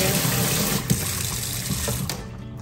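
Water runs steadily from a cheap faucet over a workshop slop sink in a broad hiss, close by, with a couple of small clunks before the flow eases near the end.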